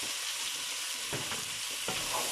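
Carrots tipped into a hot pot of vegetables for soup and stirred, giving a steady broadband sizzle with a few louder scraping stirs, close and with no talking.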